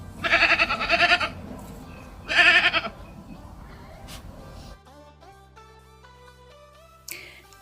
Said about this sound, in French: Voici un enregistrement audio de ce que fait la chèvre.